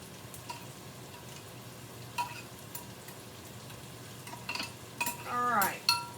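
Garlic butter chicken being stirred with a knife in a single pot, soft sizzling with scattered metallic clinks and scrapes that grow busier and louder toward the end.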